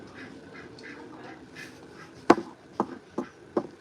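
A duck on a ranch gives a series of four loud, close quacks in quick succession, preceded by softer, quieter calls and faint background murmur.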